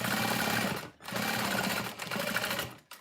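A sewing machine stitches seams on fabric pouches. It gives a fast, close, buzzing chatter that runs in bursts, with brief stops near the one-second and three-second marks as the work is shifted. No one speaks.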